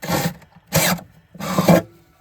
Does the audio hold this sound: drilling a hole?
yes